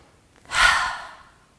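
A single deep breath during a yoga breathing exercise, a soft airy exhale that swells and fades over about a second, close and alone with no talking.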